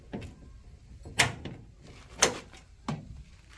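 The door of a Jeep YJ tub body mounted on a 1991 Mercury Capri chassis swings open and shut, giving three distinct thuds or clunks spaced about a second apart with light rattles between.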